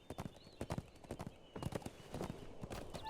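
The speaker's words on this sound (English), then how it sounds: "I got a war steed up" War steed hooves in LOTRO, a game horse trotting with quick clip-clop beats in short bursts, fairly close, with a faint whinny-like tone and a soft pause before the steps resume.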